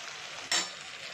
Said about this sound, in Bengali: কাঁচা লঙ্কা দিয়ে দিলাম, দিয়ে 2 থেকে 3 মিনিট একটু নাড়াচাড়া করে নেব।